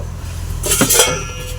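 A metal lid set down on a cooking pot, one short bright clink with a brief rattle in a quiet kitchen, over a low steady background hum.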